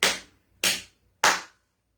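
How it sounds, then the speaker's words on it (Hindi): Three sharp hand claps, evenly spaced about 0.6 seconds apart, loud and close with brief decay after each, alone with no talk. "अपने ऊपर से हाथ को घुमा करके 3 ताली बजा दें"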